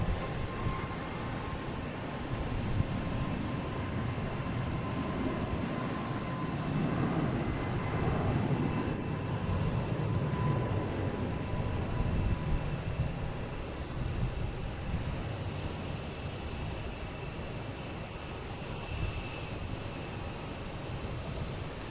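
An Aer Lingus airliner departing Boston Logan for Shannon, a distant, fairly faint continuous jet engine rumble that swells gently in the middle and then eases, with no voices.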